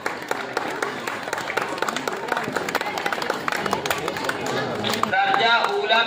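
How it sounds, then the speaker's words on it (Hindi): Audience clapping fills the hall at a results and prize-giving ceremony, a dense, fast patter of many hands that continues steadily, with voices heard toward the end. "ताली बजाए भाई"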